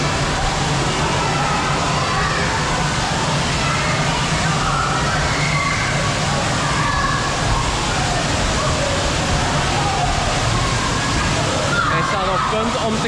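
Water splashing and churning at the Center Parcs Erperheide indoor swimming pool, a steady, loud broadband wash with constant spray and rushing throughout.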